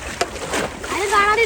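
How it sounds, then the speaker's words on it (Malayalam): Sea waves slosh and splash against a small wooden fishing boat riding a swell, loud and close, mixed with people talking. "ഞാൻ വള്ളത്തിൽ പൊലിവിലാണ്. നല്ല തിരമാലുണ്ടല്ലോ റാഫിയെ."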